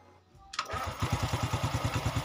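Honda Revo Fit motorcycle engine cranks briefly on the electric starter, then catches and settles into a steady, even idle with a regular pulsing beat, close and clear with no talking.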